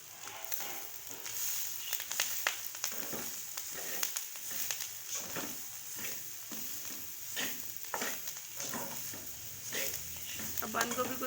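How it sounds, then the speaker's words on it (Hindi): Cabbage being stirred into a sizzling chicken kachori filling in a pan, with repeated scraping spoon strokes over a steady, quiet frying hiss. "अब बंद गोभी को इसमें अच्छी तरह से मिक्स कर रहे हैं।"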